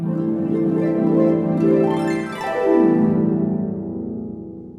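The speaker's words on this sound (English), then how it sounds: "This is the sound of the harp." Sustained plucked harp strings ring out in overlapping tones, with a sweeping glissando rising and falling across the strings midway, heard alone and moderately loud.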